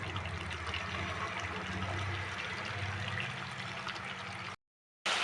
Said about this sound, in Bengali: এবার আমি সামান্য গরম জল দিয়ে দিলাম।